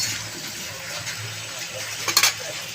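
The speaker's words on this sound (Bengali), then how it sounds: "এটা আরেকটু আরেকটু জল দিয়ে আবার মিনিট খানেকের জন্য আমরা কষিয়ে নেব" Water goes into a pan of frying masala, a brief splashing pour near the end over a low, steady kitchen hiss.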